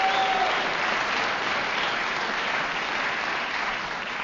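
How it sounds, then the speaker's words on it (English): A large audience in an auditorium claps steadily and loudly, a continuous wash of applause from start to end with no pauses. "they also deserve a great round of applause for the work they do here"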